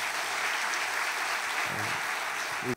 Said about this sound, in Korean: 우리 크게 박수 한번 해주시기 바랍니다.